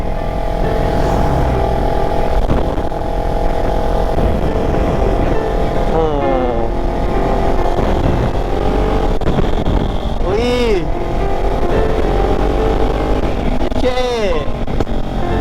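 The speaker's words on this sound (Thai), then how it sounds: "ท่อยิงท่อยิงเข้ามา" Kawasaki Ninja 300 motorcycle riding in traffic, engine droning loudly with a few sharp exhaust pops and passing vehicles, a voice speaking over it.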